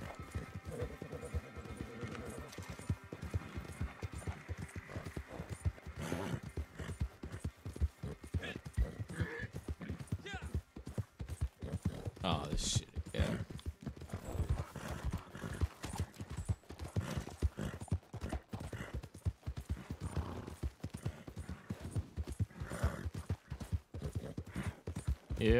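Horse hooves clip-clop steadily through a long ride in Red Dead Online, with a rapid, continuous rhythm at moderate loudness and an occasional whinny along the way.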